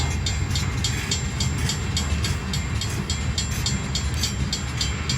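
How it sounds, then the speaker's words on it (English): A short freight train rolls past on the Philly Sub rail line, a steady loud rumble with rhythmic clickety-clack of wheels over rail joints, close and continuous. "It's just a short train."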